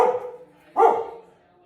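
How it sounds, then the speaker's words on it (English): In a home kitchen, a dog nearby gives two short barks less than a second apart, the second sharper and louder. "try to avoid the barking dog"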